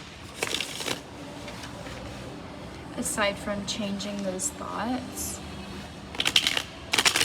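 Tarot cards being riffled and bridged in a few short bursts, close up, with a voice talking over part of it.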